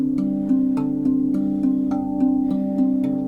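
A RAV drum tapped by hand gives a steady stream of bright, ringing metallic tones, evenly spaced strikes about every half second with long sustain overlapping, played alone and close.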